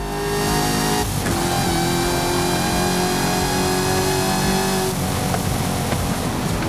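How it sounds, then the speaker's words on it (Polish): A supercharged 6.2-litre V8 in a Cadillac CT5-V Blackwing in Forza Horizon 5 revs hard, with a sustained loud engine roar and supercharger whine, rising pitch and gear changes, alone without talk. "Ale świetnie słychać ten kompresor"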